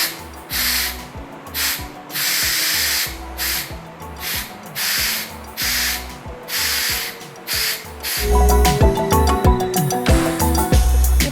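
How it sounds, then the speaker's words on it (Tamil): A pressure cooker releasing its pressure during cooking gives off rhythmic, closely spaced hissing puffs with a faint metallic rattle, then turns into a denser, louder rush of venting near the end. "இப்போ நான் ப்ரெஷரை ரிலீஸ் பண்ணுறேன்."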